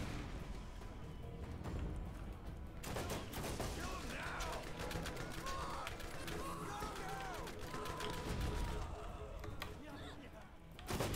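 Dense, rapid gunfire from a weapon in the video game Borderlands, loud and continuous throughout with mechanical clatter, while someone talks over it.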